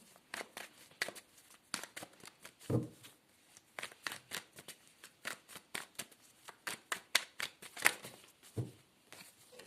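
A deck of tarot cards is shuffled by hand in quick riffling bursts, soft and close, with a few sharper slaps as cards flip out.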